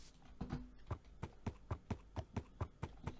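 Donkey hooves in Minecraft clip-clop in a steady, even rhythm of about a dozen hollow knocks, close and clear with no talking.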